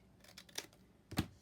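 Scissors snipping paper for a Christmas journal page, two quiet distinct cuts about half a second apart, the second one sharper and closer, with no voice.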